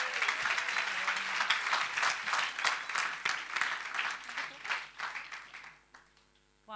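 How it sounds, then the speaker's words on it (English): A live event audience welcomes a speaker with applause, a fairly small crowd clapping in distinct, uneven bursts that taper off before a voice begins at the very end. "Can we have a round of applause?"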